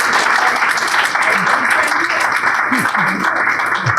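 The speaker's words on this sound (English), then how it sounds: "You can clap, and this is why it's a live audience." A live audience at a political talk event claps steadily, producing a dense, continuous patter of applause with a voice speaking faintly underneath.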